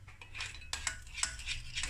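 A spoon stirs partly melted chocolate in a bowl, with light scraping and a few sharp clinks of metal against the bowl, close and fairly quiet.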